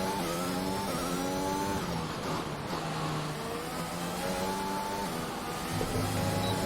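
Formula 1 race car engine howling at high revs around the Dutch GP track in the F1 2021 video game, steady loud whine rising and dropping with gear shifts and corners.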